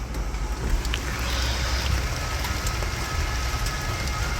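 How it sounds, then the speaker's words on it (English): Heavy rain pouring down on a summer morning in Rome, a constant dense hiss with scattered drips and splashes on nearby surfaces, steady and moderately close. "it's pissing down with rain this morning"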